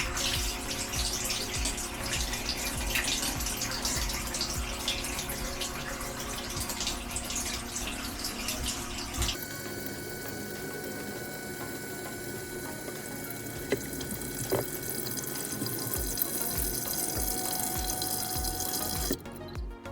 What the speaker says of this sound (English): The dishwasher has filled with water